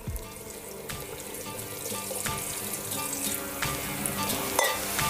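Porcini mushroom soaking water is poured carefully from a bowl into a cooking pot of tomato and mushrooms, giving a continuous splashing trickle with a few clinks of utensils against the pot.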